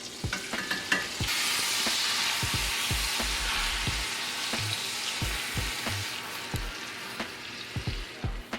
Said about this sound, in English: I'm just frying the garlic up just a little